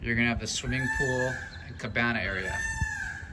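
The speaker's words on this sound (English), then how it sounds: "What you hear there are actually peacocks." Loud, drawn-out calls from peacocks near a swimming pool and cabana area at a residential tower complex in Makaha Valley, two wailing cries, with someone talking over them.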